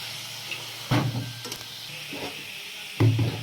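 Chicken curry masala frying and being stirred in a pan, soft continuous sizzle broken by a few louder scraping stirs, close up with no talk.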